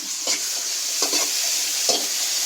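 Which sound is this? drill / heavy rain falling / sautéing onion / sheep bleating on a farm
sautéing onion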